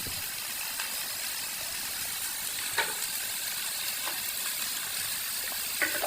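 Onions sautéing in a frying pan outdoors give a steady, even sizzle with a few faint clicks and scrapes, nobody talking.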